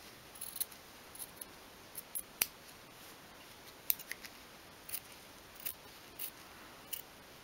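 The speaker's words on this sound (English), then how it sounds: "just take the scissors, and we want to trim off this square at each corner" Scissors trim the corners off a piece of card for a 1/12th scale model sofa, giving faint, quiet snips and clicks spaced irregularly over a soft background hiss.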